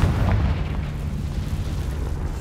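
Fiery Confringo spell blast in Hogwarts Legacy, a deep rumbling explosion up front that rolls on as a low, loud continuous boom.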